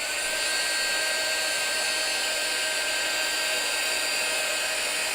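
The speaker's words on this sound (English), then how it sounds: "I'm going to give that a quick blast with a dryer before we try and do any more stenciling" A hair dryer blasts steadily to dry freshly stenciled paint, a loud continuous whooshing hum with a high whine that holds unchanged throughout, with no talking.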